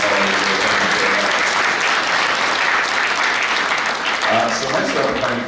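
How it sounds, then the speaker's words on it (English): Loud, sustained audience applause at a community event, a thick, unbroken roar of clapping from a large crowd with a voice briefly heard beneath it near the end. "Round of applause to George Chevalier."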